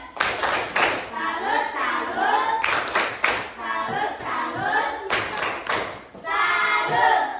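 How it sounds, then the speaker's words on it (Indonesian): Pupils in a classroom repeat the 'tepuk salut' clap chant, with rhythmic bursts of crisp group claps alternating with children chanting together, close and loud. "Salut. Sekali lagi ya."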